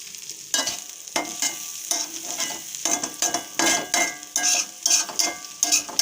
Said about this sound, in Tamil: இந்த மாதிரி தான் வதக்கணும் கருவாடு